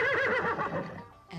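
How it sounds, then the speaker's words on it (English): A horse on a farm gives a single loud, close whinny that wavers and trails off over about a second, heard on its own. "Yes, a horse, of course."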